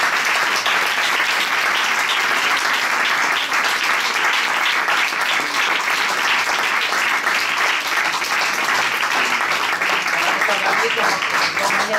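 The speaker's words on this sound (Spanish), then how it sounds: "yo lo que pediría es un aplauso para mi profe Rosa" Loud, continuous applause from an audience honoring a retired teacher at a talk, a thick unbroken roar of many hands clapping at close range throughout.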